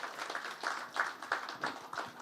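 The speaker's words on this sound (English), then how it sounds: "another round of applause for the management of Nahco" Audience at a corporate capital-market stakeholders' event clapping for the company's management, a faint, short round of applause with rhythmic, fairly even claps.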